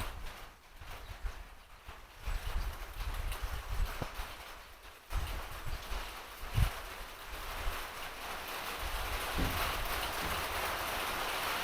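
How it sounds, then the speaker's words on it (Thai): Steady rain hisses throughout, with occasional thumps and knocks breaking through the continuous wash of water noise. "ฝนตกแล้วพี่น้องเอ้ย"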